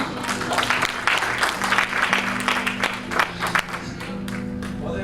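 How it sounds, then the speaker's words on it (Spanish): Church congregation applauding in praise during a Spanish-language sermon, dense sustained clapping from a crowd filling the space, with a steady low organ or keyboard tone beneath. "Denle ese aplauso al Señor."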